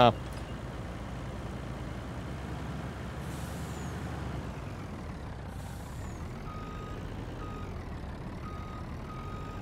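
A truck in Farming Simulator 19 drives along with a steady engine rumble, air-brake hisses and reversing beeps partway through, while someone talks over it.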